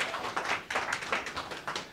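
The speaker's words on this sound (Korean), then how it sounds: "큰 박수 부탁드리겠습니다." Applause at a forum event, a modest group of people clapping in fairly quick uneven bursts, moderately soft and somewhat distant in a room.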